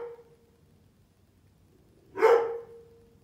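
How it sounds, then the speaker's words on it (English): A single sharp dog bark rings out close by after a steady faint tone, then quiet. "You're barking."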